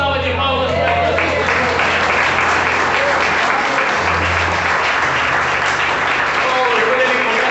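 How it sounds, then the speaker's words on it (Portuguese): A church congregation breaks into loud, sustained applause that fills the whole stretch, many hands clapping densely together close by, with a voice faintly audible underneath. "dê uma boa salva de palmas para ele"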